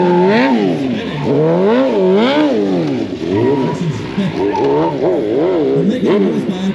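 A BMW stunt motorcycle at a stunt show performs wheelies, its engine revving loud and close in repeated rising and falling surges, with a commentator talking over it.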